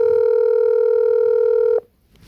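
An outgoing phone call produces a single loud, steady electronic ringback tone that holds for almost two seconds and then cuts off abruptly into near silence, unanswered.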